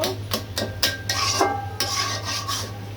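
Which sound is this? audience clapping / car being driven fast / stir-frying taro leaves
stir-frying taro leaves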